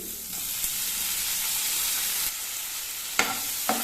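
Shallots and tomato frying in oil for a prawn thuvaiyal, a steady close sizzle with occasional scrapes and taps of a spoon stirring the pan, the clatter growing toward the end.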